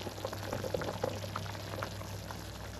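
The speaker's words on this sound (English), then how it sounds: "next we will strain the pasta" Water is poured off boiled pasta and meatballs through a strainer, a steady soft bubbling and splashing gush of liquid with small gurgles, close and quiet with no talk.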